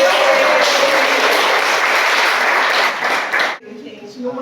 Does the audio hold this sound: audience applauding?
yes